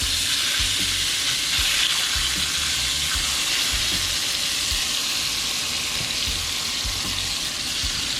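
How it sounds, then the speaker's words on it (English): Chicken thighs sizzle and fry in oil in a pot, a steady bright crackle with scattered pops and faint clinks throughout, no voices. "our next step is to braise these chicken thighs on each side, so I have some oil on the pot"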